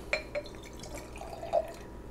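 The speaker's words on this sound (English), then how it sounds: "The next step is to add the water." Water poured into a glass jar for a homemade fruit fly trap, a few close, bright splashes and drips ringing against the glass in a quiet room.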